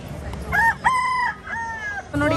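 A native country rooster crows nearby at a poultry market in Kalaburagi, in several drawn-out, wavering calls, loud and clear against a faint background murmur.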